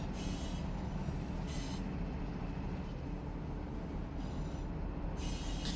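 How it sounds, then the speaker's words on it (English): A CSX freight train in the Run 8 simulator rolls around a curve in Georgia, giving a steady, continuous rumble of wheels and cars with a faint squeal, heard alone with no talk. "as the train wraps this corner."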